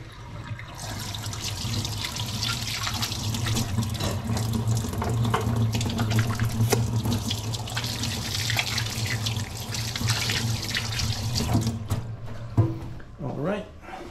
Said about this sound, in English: Just wash my hands quick.